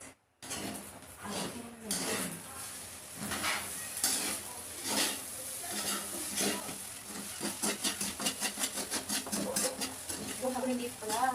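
Fried rice stirred and mixed in a pan, with scraping utensil clicks and a soft sizzle, quiet and close, running under a voice talking at times.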